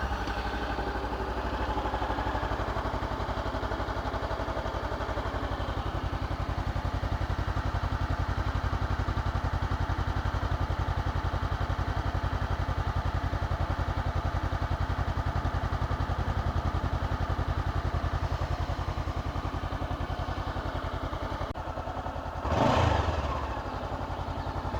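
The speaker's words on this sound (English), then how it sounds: "This is the stock exhaust." Honda CB500X motorcycle with its stock exhaust idling nearby, a steady, moderately quiet engine note with a brief bump near the end.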